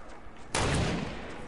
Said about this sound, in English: Why are you shooting at me? Is that sniper?